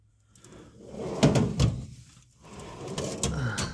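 A metal drawer on a home toolbox holding large standard wrenches slides open with rattling, clanking rolling noises in two bursts, close by and fairly loud.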